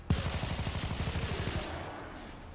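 Muffled automatic gunfire from Mesa with the Presidio skin in Warframe: a rapid, even burst of about twenty dull thuds over roughly one and a half seconds, then a short fading tail, loud and close with no voices.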